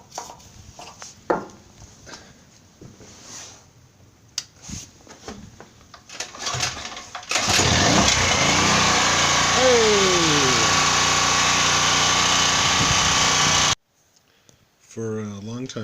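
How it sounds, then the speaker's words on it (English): A long-unused generator engine, primed with starter fluid, catches after a stretch of quieter background noise and then runs loudly and steadily for several seconds before cutting off abruptly. "You get your generator ready."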